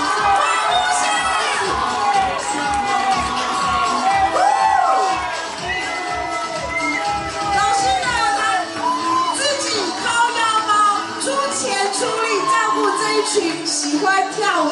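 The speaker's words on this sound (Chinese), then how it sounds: "再次掌声欢呼声" An audience at a charity dance show cheers loudly, with children's shouts and whoops in a dense, continuous crowd roar and voices mixed through it.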